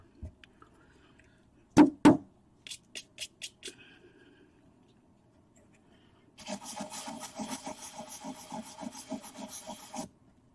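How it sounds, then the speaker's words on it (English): Hand sanding of a plastic model kit part during a Glaug Pod build: a dense run of rapid back-and-forth rasping strokes in the second half, close and moderately loud, preceded by a few sharp knocks and brief scuffs. "You can sand in a circular motion, backwards and forwards, you know, whatever."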